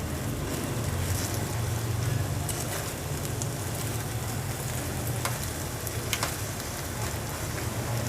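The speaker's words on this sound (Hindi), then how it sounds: "इसी तरह मैं दूसरा पीस भी फ्राई कर लूँगी" A piece of egg fries in a pan for a club sandwich, giving a steady, even sizzle with a low rumbling undertone that holds throughout without any talking.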